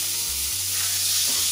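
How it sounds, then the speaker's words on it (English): Penne all'arrabbiata sauce sizzles and fries steadily in a frying pan, a close, continuous hiss with no talking. "now what we do is we are going to put this in the frying pan"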